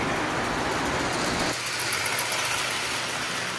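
Steam locomotive engine running during a timed race, a steady, dense mechanical rumble with broadband hiss that drops slightly in intensity about halfway through, continuous and fairly close.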